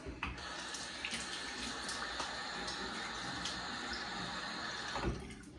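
Tap water runs steadily from a faucet into a sink, wetting the face before a wet shave, a continuous close splashing hiss with small clinks and no talking, ending abruptly.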